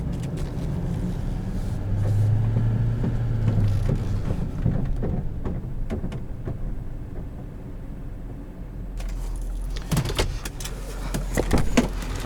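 A 2015 GMC Sierra 3500HD Denali Duramax diesel truck drives on the road, its low, steady engine drone and road rumble holding throughout, with a few clicks and knocks from inside the cab and a brief louder burst near the end.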